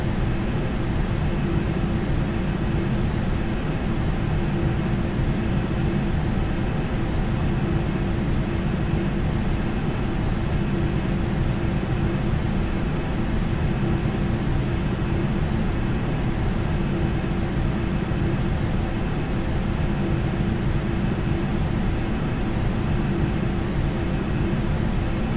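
A Learjet's engines in a flight simulator game produce a steady, unbroken jet roar with a broad hiss, holding at an even level throughout with no voices.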